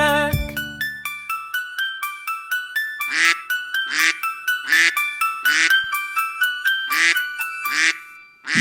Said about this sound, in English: Sad mother duck said quack, quack, quack